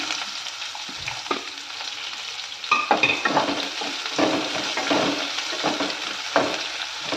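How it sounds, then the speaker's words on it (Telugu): Chopped onion hits hot oil in a pan for tomato rice, the quiet sizzle jumping louder midway and then continuing with rhythmic spatula stirring and scraping, close and without speech. "ఈ ఆనియన్ని కూడా ఇందులోకి యాడ్ చేస్తున్నాను."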